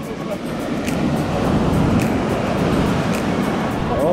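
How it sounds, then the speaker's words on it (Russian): Steady, heavy rush of sea waves at a Turkish beach, continuous broadband surf wash with a roaring, wind-blown texture throughout. "Алиса, какие волны!"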